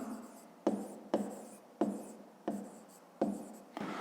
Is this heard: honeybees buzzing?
no